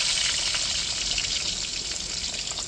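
Onions sautéing in a pan for a chicken fry, a dense, continuous hissing sizzle that stays loud and even from start to finish.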